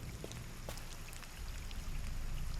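Wading through water in the game Scanner Sombre: a steady, close wash of splashing and trickling that swells slightly louder toward the end, with a few brief drips standing out.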